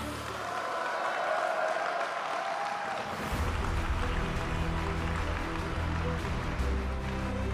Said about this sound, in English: Make sure to give them a huge round of applause.